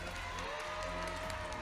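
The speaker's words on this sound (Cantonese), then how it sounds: "俾啲掌聲佢" An audience at a music video awards gala in Macau gives steady, fairly faint applause for a music video director, a continuous wash of clapping in a large hall.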